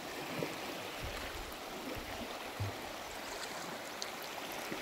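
River water rushes past a bridge after heavy rain, a steady broad wash of flowing water with a few faint low thumps, moderately distant and without any talking.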